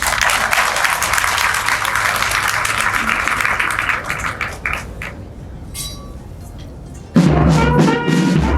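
Audience at a student debate match claps for the team captains, loud dense applause that thins out midway, followed by clinking glass-and-dish sounds and a burst of noise near the end.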